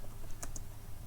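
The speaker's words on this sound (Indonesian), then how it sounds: "Next, press enter." A single Enter key press on a computer keyboard, a short, close, faint click with a softer second tap just after, against a quiet room hum.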